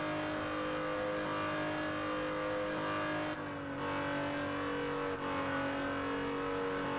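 A supercar engine in the Test Drive Unlimited Platinum racing game drones steadily at high revs while driving around the island, a loud continuous whine with brief dips, no talk.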